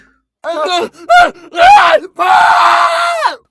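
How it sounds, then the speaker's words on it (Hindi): A woman screams in several anguished bursts, the last a long sustained shriek, loud and close with short gaps between cries. "मां की चीख"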